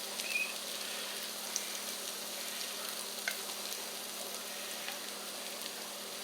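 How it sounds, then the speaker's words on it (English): Cornmeal batter for buttermilk cornbread is poured into a hot pan, making a steady, close crackling sizzle with faint pops throughout and no talking. "pour this cornmeal mixture into that hot pan"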